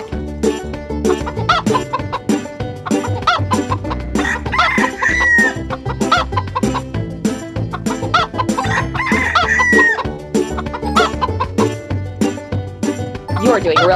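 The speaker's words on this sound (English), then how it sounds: "Our hens are hungry." Hens clucking and a rooster crowing in a children's cartoon, over a bouncy, rhythmic music track with a steady beat, loud and continuous throughout.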